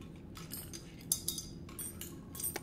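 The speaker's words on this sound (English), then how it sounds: "That is not the noise I expected out of a hammer." Hammer strikes in the video game The Playground, used to smash and fix a broken seesaw, heard as several light metallic clinks and clatters like dropped wrenches, fairly quiet and irregular.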